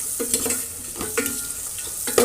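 Curry leaves in hot oil with turmeric, stirred in a pan: a steady sizzle broken by several distinct scraping stirs of a spoon, close and fairly loud.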